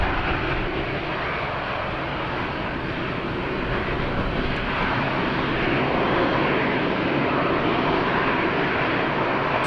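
Passenger jets roar continuously at Madeira Island Airport, a loud, steady engine rumble with broad rushing noise holding for the whole stretch, no voices over it.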